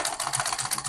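A sewing machine stitching a zip onto trousers, a fast steady mechanical rattle of the needle running close and continuous.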